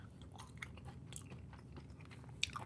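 Purple crispy tortilla strips from a Taco Bell item crunch between the teeth in close, quiet bites, with a few sharper cracks toward the end.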